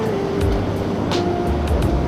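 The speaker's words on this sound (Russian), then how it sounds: "Волна все ближе, ближе, ближе. Уже ехать негде." Ocean waves wash up Daytona Beach at high tide on a crowded evening. A steady, loud roar of surf rolls continuously, with soft rushes of breaking water.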